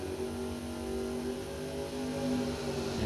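Chevrolet Vega door car at a drag racing event runs its engine with a continuous loud drone, pitch slowly climbing under acceleration over a few seconds.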